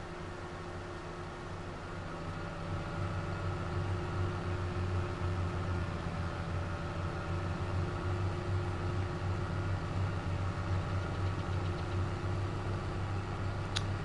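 A tractor engine in Farming Simulator 22 drones steadily while driving, a low constant hum with mechanical whine that swells slightly after the first couple of seconds and holds.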